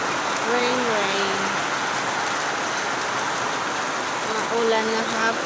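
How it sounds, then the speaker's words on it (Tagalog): Steady afternoon rain hisses and patters continuously and fairly loudly, with a voice speaking briefly at the start and again near the end. "Rain."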